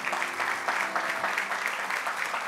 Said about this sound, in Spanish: Denle un aplauso fuerte a nuestro Señor.